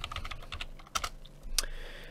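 Computer keyboard keys typed in short bursts of clicks and taps, close and fairly loud, with no voice over them.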